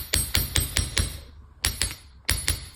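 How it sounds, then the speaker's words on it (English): A small chasing hammer taps metal wire in quick bursts of sharp, ringing strikes, flattening a jewelry hook, pausing briefly between groups, close and clear. "you can take your chasing hammer and just flatten out the part that's going to be the hook"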